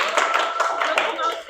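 Light clapping from a group in a high school classroom during a personal finance game, quick overlapping claps mixed with speech and room chatter.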